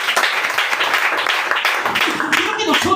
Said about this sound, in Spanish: Den un aplauso a la palabra de Dios.